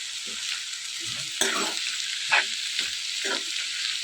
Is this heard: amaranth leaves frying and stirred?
yes